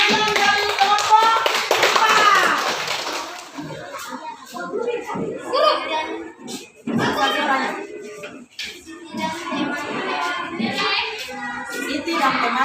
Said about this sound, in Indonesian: tepuk tangan untuk penampilan dari kelompok